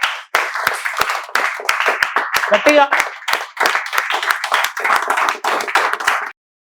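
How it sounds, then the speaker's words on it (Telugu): Audience applause of many hands clapping in welcome at a spoken English class, dense and steady for about six seconds before stopping abruptly. "మేమందరము మీకు చప్పట్లతో స్వాగతాన్ని తెలియజేస్తున్నాము"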